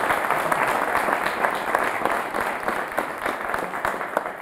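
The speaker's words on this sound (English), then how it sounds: "A round of applause again for Dr." Steady applause from an audience at a Nigerian panel discussion, dense continuous clapping of many hands filling the whole stretch at close range.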